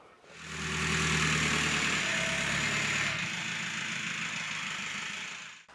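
A Volkswagen Golf 4 TDI PD diesel engine with an upgraded intercooler runs steadily, a loud, even drone that swells up after the start and holds constant before cutting off at the end.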